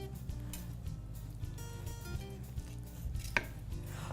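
A knife slices through a honey balsamic ginger glazed ham, giving faint, soft repeated cuts over a quiet room with a small tap near the end.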